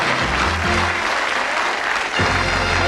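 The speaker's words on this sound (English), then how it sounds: "Give them a nice round of applause." Studio audience at a television game show applauding arriving guests, thick continuous clapping that stays loud throughout, with a faint low rumble underneath and a brief dip near the end.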